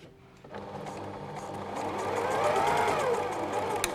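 Sewing machine running a few back stitches while inserting a concealed zip, a close steady motor whir that starts abruptly and rises slightly in pitch, with no talking.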